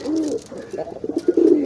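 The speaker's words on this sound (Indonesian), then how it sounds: "Nah, ini merpatinya giringnya keras," A domestic pigeon coos loudly and close by, rolling through several throaty phrases with short pauses between them.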